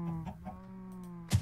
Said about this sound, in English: Then we have a chicken and a duck.